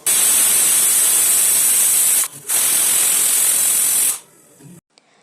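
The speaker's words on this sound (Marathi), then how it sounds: "झाकण लावून 3 शिट्ट्या काढून घ्यायच्या आहेत." A pressure cooker of rice and beans vents steam in a loud, close, hissing whistle that runs about two seconds, breaks briefly, returns for nearly two more, then cuts off into quiet.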